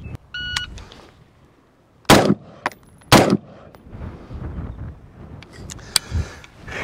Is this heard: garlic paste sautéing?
no